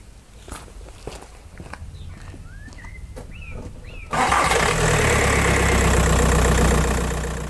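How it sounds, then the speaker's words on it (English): A Skoda Fabia Mk1 1.9 PD diesel is started after a few footsteps and clicks, then settles into a loud, steady close-up idle with a low rumbling clatter. "Now start the car and run the engine."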